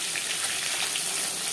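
Puti fish fry in small batches in a well-heated kadai, giving a steady close hiss and crackle of hot oil with no break and no talking.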